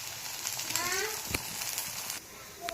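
A bun dosa fries in an uncovered pan with a steady, close crackling sizzle, joined by a few faint tonal sounds and a brief sharp tap.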